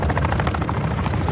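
A helicopter in a video game thumps loudly and continuously in a fast, steady rotor beat, close overhead and unbroken, with no talking.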